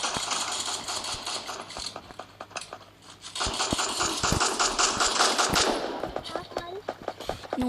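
Rapid bursts of automatic gunfire from a video game, loud and continuous with dense rattling shots, under excited talk from players.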